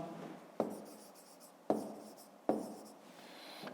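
Pen or pencil writing by hand on paper during a fifth-grade maths exercise, with three sharp tap-like onsets each followed by a soft scratching stroke, close and quiet, with no voices.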